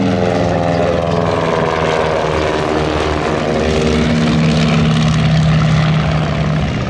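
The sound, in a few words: WWI replica biplanes flying: Halberstadt CL-1 and Royal Aircraft Factory SE-5A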